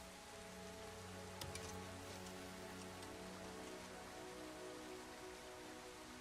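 Rain in the video game Crimson Desert falls as a steady, soft hiss over a low droning hum, with a brief faint clatter early on and no talking.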